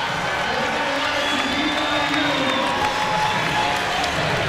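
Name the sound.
volleyball arena crowd cheering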